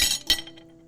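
Dishes clink together during washing up in a cozy farmhouse kitchen, two quick bright taps close by followed by a fading ring, with no voices.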